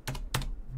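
Typing on a computer keyboard, two quick close key clicks in under a second.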